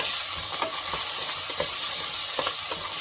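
Onions salted with pink salt sauté in a pan with a steady sizzle, punctuated by several soft scrapes and stirs of a spoon, close and with no voices.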